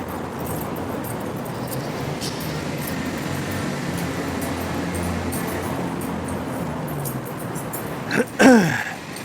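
A vacuum cleaner runs as a steady, droning whir throughout, fairly even in level, ending with a brief louder clatter near the close.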